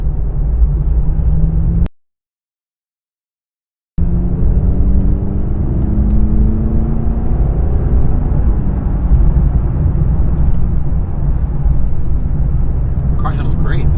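A BMW engine drones steadily with rising and falling tones as it drives, broken by a brief two-second silence, then continuing with faint rumble.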